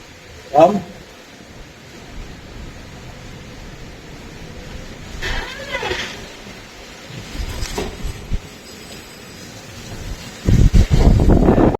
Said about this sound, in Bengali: ঘূর্ণিঝড় হলেই এত জোরে বাতাস